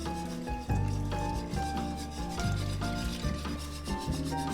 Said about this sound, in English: I'm gonna slowly add this plant milk and flour mixture and whisk it in